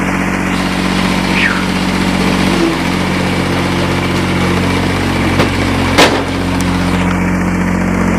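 A Kubota diesel engine idles steadily, a low rumbling drone with a constant even hum, and a few faint clanks and a brief knock heard over it.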